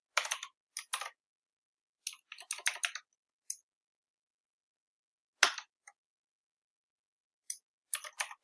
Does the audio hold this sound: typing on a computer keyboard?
yes